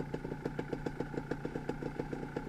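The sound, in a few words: two-stroke dirt bike engine spitting and sputtering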